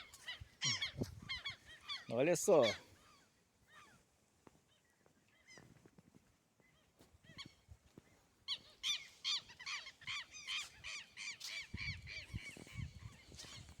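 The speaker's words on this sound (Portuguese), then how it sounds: "E as gaivotas estão nervosas." Agitated seagulls call by the Tocantins River with sharp, repeated squawks, some close and loud and others farther off. Someone speaks briefly between the cries.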